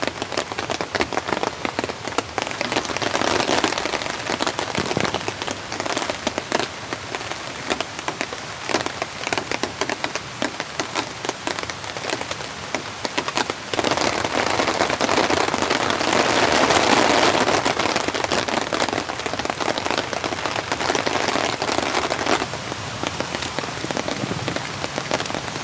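Steady rain patters on a camping tent during a winter wild camp, a dense, continuous hiss of drops on fabric that stays fairly loud and even throughout, with no voices.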